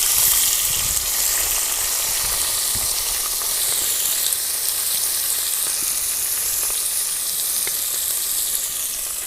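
Beans, cabbage and carrots sautéing in hot oil for vegetable fried rice, a steady close sizzle and hiss that runs without a break, with faint stirring scrapes.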